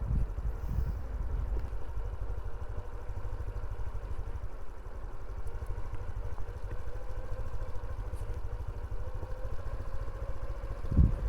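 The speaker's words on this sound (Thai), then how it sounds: "จอดมอเตอร์ไซค์แล้วก็ เบิ้ลเครื่องยนต์เพื่อที่จะให้ไฟ ชาร์จเข้าแบตเตอรี่" A parked motorcycle's engine runs steadily with a low, continuous rumble to charge a flat battery on a steep mountain descent, with a brief louder thump near the end.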